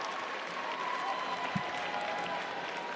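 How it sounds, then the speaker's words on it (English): A figure skating crowd at the ISU World Championships in Boston applauds an ice dance free dance, steady dense clapping from a large arena audience, with a commentator talking over it. "So many people on their feet applauding what they've just seen."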